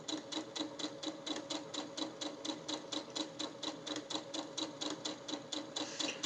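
A sewing machine stitches down fabric charm squares for a bag, running in a steady, fast, even rhythm of repeated needle strokes throughout, close and moderately loud with no talking.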